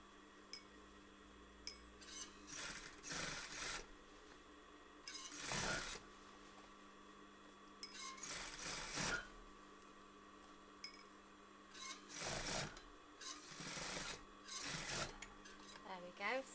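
A sewing machine runs in several bursts as it stitches a seam on jeans under repair, with close mechanical whirring separated by short pauses and faint voices in the background.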